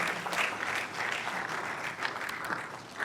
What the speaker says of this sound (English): Please, another round of applause for yourselves this time.